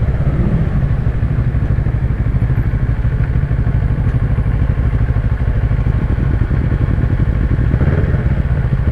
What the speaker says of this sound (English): I do have a noisy bike behind me, I'm going to hear it.